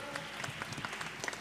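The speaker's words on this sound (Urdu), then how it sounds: "دیکھیے آپ تالی بجا رہے ہیں" A literary gathering's audience claps, giving a fairly faint, brief patter of applause with scattered individual claps and no talk.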